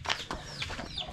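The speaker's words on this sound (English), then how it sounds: "Lots of little chickens hatched out, running around on the bottom." Newly hatched chicks on a farm in the Philippines cheep and cluck in quick, busy bursts, close and fairly loud, with high chirps over a low steady background.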